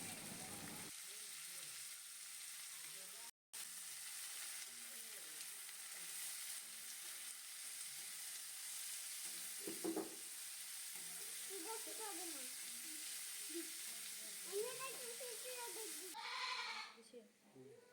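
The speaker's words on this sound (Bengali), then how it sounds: "এরপর আমরা তেলে কেটে রাখা পেঁয়াজ কুচি দিয়ে দিলাম।" Chopped onions frying in oil for khichuri, a faint, steady sizzle throughout, with goats bleating intermittently in the background and a short rustle near the end.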